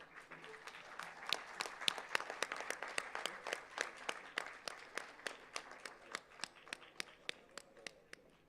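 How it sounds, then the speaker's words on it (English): An audience at an institute foundation day award ceremony applauding a sports award winner, a small crowd clapping in a steady rhythm that peaks early and then tapers to scattered claps, moderately distant in a hall. "round of applause for your dear friends"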